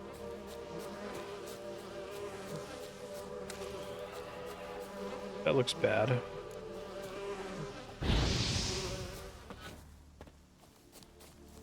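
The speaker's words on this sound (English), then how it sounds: "Just bees with no hive" Bees buzzing in the video game The Witcher 3: Wild Hunt, a steady droning hum through the whole stretch with a louder swell and some rustling and thumping midway; someone briefly speaks over it.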